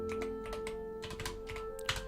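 Rapid typing on a standard computer keyboard, a dense run of close, clicky keystrokes with a brief louder tap near the end, over a steady electrical hum.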